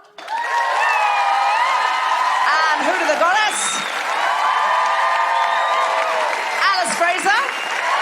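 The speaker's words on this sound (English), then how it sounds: "Can you give a big round of applause for Anisa Nandaula" A live audience at a comedy podcast show in Brisbane claps and cheers in a dense, loud wash while a presenter speaks over it.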